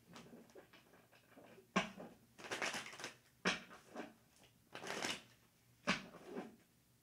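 Tarot cards are shuffled for a psychic reading in a series of close, soft riffling bursts with brief quiet gaps between them, fairly faint overall.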